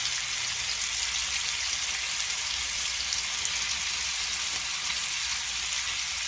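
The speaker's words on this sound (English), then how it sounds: "I'm going to sear this other side" Thick pork chops sear in hot fat in a pan with a steady, loud, continuous sizzle that never lets up, heard close with no voices.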